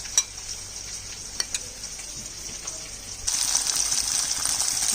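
A spice paste of ground chilli, ginger, onion, garlic and turmeric mixed with water hits hot oil for a prawn curry, bursting into a loud, steady sizzle after a few quieter clinks and stirs.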